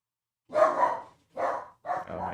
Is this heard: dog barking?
yes